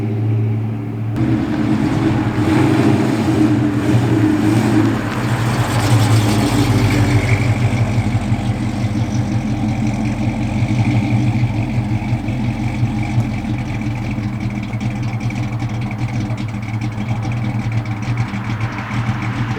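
A car engine idles steadily under load on a fuel vaporizer test, a low continuous hum that shifts in tone early on and carries on evenly, close and loud, without speech.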